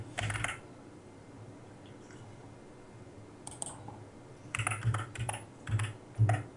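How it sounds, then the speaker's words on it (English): Keys clatter on a computer keyboard as a password goes in: a quick burst, a few scattered taps, then a closing flurry of clicks, near and fairly quiet. "Obviously, I'm just typing in my password."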